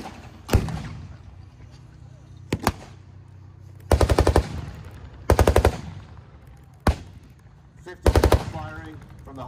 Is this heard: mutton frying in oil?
no